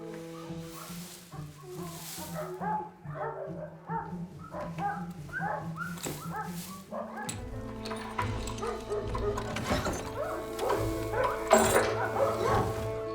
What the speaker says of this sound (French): Bonjour les toutous.